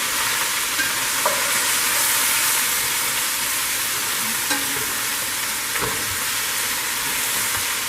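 Jamaican-style curry chicken is stirred in a hot pot, with a loud continuous sizzle and occasional scrapes and clunks of the spoon against the pot, close up and without speech.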